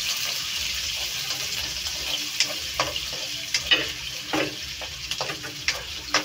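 Garlic frying in butter and oil in a pan where shrimp were cooked, a steady sizzle broken by irregular scraping stirs and light clinks, close and continuous with no talk.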